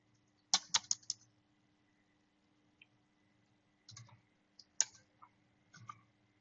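Someone types in short bursts on a computer keyboard, with quick clusters of clacking keystrokes separated by pauses and a few isolated taps, close and fairly quiet over a faint steady hum.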